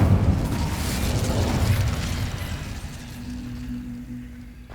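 Incendio fire spell cast in the video game Hogwarts Legacy, a loud burst and fiery roar that swells at once and then slowly fades over several seconds, with no voices.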